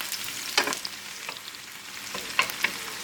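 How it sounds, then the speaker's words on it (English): Chopped onion gives a quick fry in a hot pan: a soft continuous sizzle broken by a few sharp stirring scrapes and clacks, close up, with no talking. "We're going to give this a quick fry."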